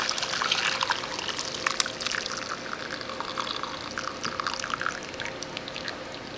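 Hot water steeped with basil leaves being strained, liquid pouring and trickling steadily with dripping splashes for several seconds, no talking.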